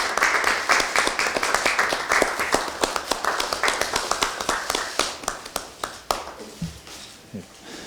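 A crowd at a party committee meeting claps for a national committee chairman, the applause close and rhythmic, thinning out near the end with a few scattered claps and faint sounds.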